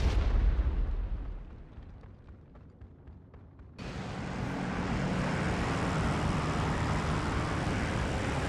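Bomb explosions in a WWII combat flight game as a German bomber's payload strikes its target: a deep rumbling blast fades, then a loud, sustained roaring burst of explosions and fire takes over and holds steady.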